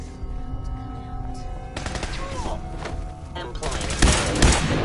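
Weapon gunfire in Fallout 4 on PlayStation 5, sharp repeated shots that build into a thick, loud volley toward the end over steady background game sound.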